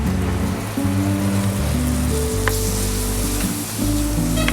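Paste of about fifteen small shallots sizzles in hot oil, a steady hissing crackle that runs the whole time beneath loud background music.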